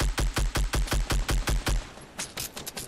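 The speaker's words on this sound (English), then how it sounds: "Tried to shoot at him." Rapid automatic gunfire in a Fortnite Battle Royale match, about ten evenly spaced loud shots in a steady burst, followed by a few scattered, quieter shots trailing off; no talking.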